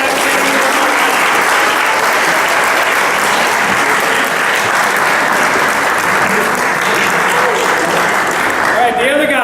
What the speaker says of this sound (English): So I think he needs a round of applause.